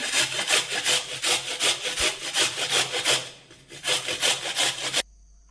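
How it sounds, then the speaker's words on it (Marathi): Fresh amla (Indian gooseberry) grated on a hand grater for pickle, giving loud, close rhythmic rasping strokes in steady repetition, with a short slower stretch and a stop just before the end, with no speech. "हे आवळे आहेत ते पहिल्यांदा खिसून घेणार आहे तर खिसणीने खिसून घ्यायचे"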